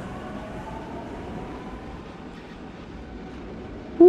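Low, steady rumble of an automated driverless subway train running, with a faint whine near the start and a sudden tonal squeal right at the end.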